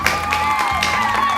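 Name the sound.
applause for Pak Haji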